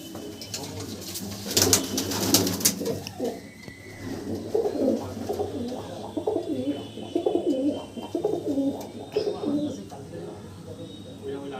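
Pigeons coo repeatedly throughout the male section of a loft, a steady chorus of low rolling calls with a brief burst of rustling or flapping near the start and some speech-like murmur mixed in.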